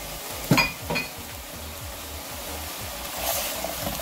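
Chickpeas tipped into a pan of vegetarian stroganoff and stirred, with a couple of quick clinks of utensil on pan at the start over a soft, continuous sizzle and scraping.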